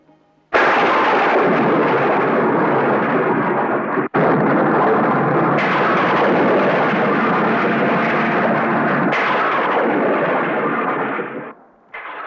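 Heavy storm noise in a 1987 Hindi action movie, a loud continuous roar of wind, rain and rumbling thunder that carries on almost unbroken for about eleven seconds with brief sudden cut-offs.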